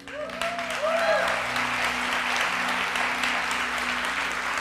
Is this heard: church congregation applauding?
yes